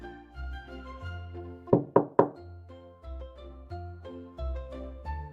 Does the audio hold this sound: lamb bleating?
no